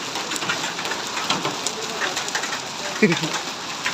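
Hailstones pelt a car in Saudi Arabia, a dense rattling patter of many small impacts on the body and roof, loud and close, with a few sharper hits standing out and faint voices in the background.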